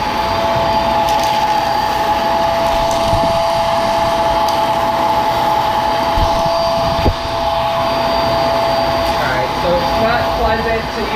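A Hoover PowerDrive Pet vacuum cleaner runs on a hard floor with a loud, constant motor whine and airflow roar, with a brief bump of the head partway through.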